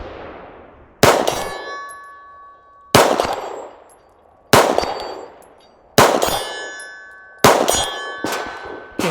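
Five loud, sharp metallic clangs ring out as pistol shots from a Glock 45 hit steel tree targets, evenly spaced about every one and a half seconds, each ringing on and fading.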